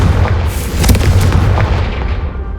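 A Confringo explosive spell blast in Hogwarts Legacy, a loud, dense booming burst with crackling debris that carries on through the whole moment, no voices over it.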